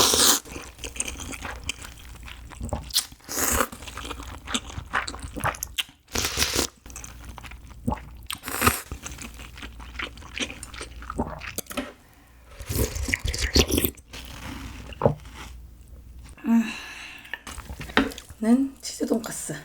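Someone eats a crunchy cheese pork cutlet with cold momil noodles, making close, repeated bites, crunches and wet chewing sounds in an irregular rhythm.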